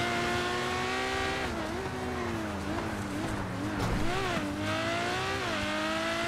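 A video game car engine drones steadily with rising and falling pitch as it drives, loud and continuous throughout.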